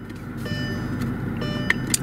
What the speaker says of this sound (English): And it fires to life with a nice healthy growl.